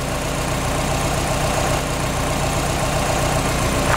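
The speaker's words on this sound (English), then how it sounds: "the engine sounds like it's running better" A Subaru car engine idles after an oil service, a loud, steady, even running note with a regular low pulse and no speech.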